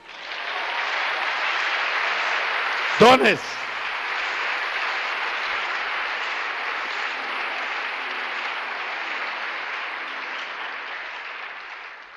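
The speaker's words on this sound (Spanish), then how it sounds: "Un aplauso." A church congregation applauds in a dense, sustained wash of clapping, with a brief voice cutting through early on before the clapping carries on.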